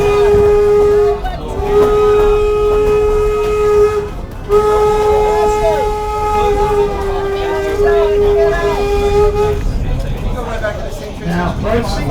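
A Strasburg Railroad train in Pennsylvania rumbles along the tracks, heard from on board, as a long steady horn or whistle tone sounds in sustained blasts with short breaks. Voices talk over the running noise.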